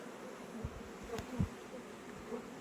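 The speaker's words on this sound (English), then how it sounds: "that's a lot of bees" Honey bees buzz faintly and continuously around hives, with a few louder drones passing close by.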